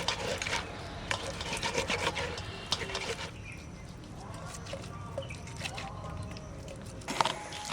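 Ripe mango scraped back and forth on a metal grater in a village kitchen, a steady run of rough rasping strokes with sharper scratchy bursts, fairly close and moderately quiet, no talk.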